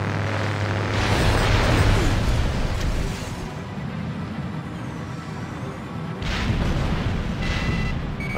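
Weapons firing and explosions in the jet combat game Ace Combat Assault Horizon form a loud, continuous barrage of booming blasts and rumbling engine roar, swelling at the start and again near the end.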